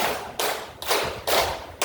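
Students clap in unison on a teacher's count, four distinct broadband claps in even rhythm inside a reverberant classroom, loud and close, with no voices between them.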